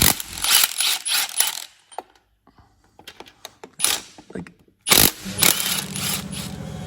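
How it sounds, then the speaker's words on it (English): An air compressor in a mechanic's workshop kicks in after scattered metallic clanks and ratcheting tool noises, then settles into a loud, steady motor drone for the last couple of seconds. "Compressor has started there now"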